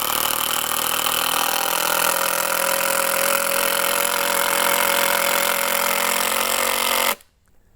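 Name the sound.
Makita 12 volt power tool running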